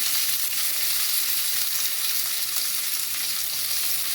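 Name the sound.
onions, capsicum and peas frying in a pan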